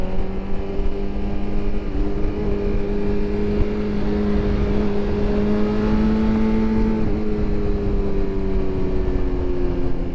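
Motorcycles crowd around a 2026 BMW S 1000 RR in Medellin traffic, a continuous close engine drone with steady harmonic hum that rises slightly and settles, no talk.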